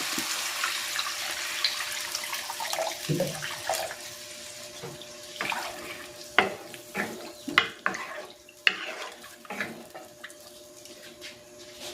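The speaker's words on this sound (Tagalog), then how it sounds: "Maglalagay na ako dito ng tubig." Water splashes and pours into a cooking pot over soy sauce, oyster sauce and pepper for pancit, followed by scattered clinks and taps of utensils, close by with no talking.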